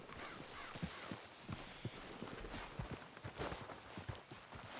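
Horses walk in Red Dead Redemption 2 with steady, moderately close hoof clip-clops, a regular rhythm of muffled thuds over a low outdoor ambience.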